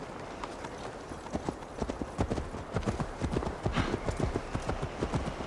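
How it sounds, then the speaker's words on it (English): Horse hoofbeats in Assassin's Creed Valhalla as riders set off at a steady trot, with a brisk, even clip-clop of several hooves over soft outdoor ambience, close by and with no talk over it. "Mount up, Eivor. It's a long ride to Tamworth."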